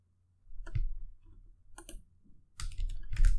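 Scattered keystrokes on a computer keyboard come in short, close bursts separated by pauses, quiet clicks building to a denser flurry of typing near the end, with no talk.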